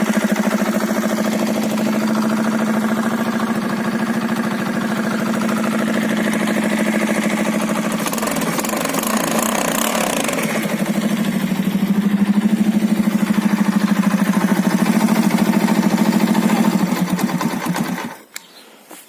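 Alfa moped engine idling steadily after an engine replacement, a close, loud buzzing drone with a brief rise in revs midway, running alone until it cuts off abruptly at the end.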